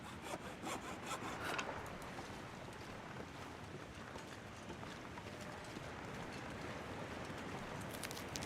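A hacksaw cuts scrap in a survival video game, rendered as a rough, steady rasping drone of sawing strokes that runs quietly and unbroken, preceded by a few brief rubbing noises and with no talking.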